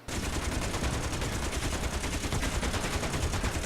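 Sustained automatic gunfire shooting at iron blocks in the Space Engineers video game, a dense, loud rattle of rapid shots running steadily the whole time with no pauses or voices.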